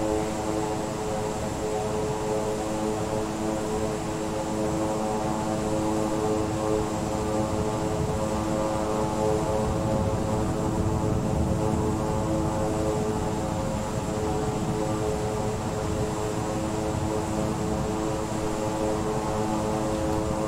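Twin turboprop engines of a King Air 350i in Microsoft Flight Simulator running in reverse thrust: a steady, loud propeller drone with a constant whine and rumble holding at a single pitch throughout, with no talk.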